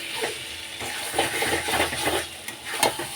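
Mutton being sautéed with spices in a home kitchen for a Bengali red curry, a steady sizzle and hiss with intermittent scraping stirs, close and moderately loud, no talking.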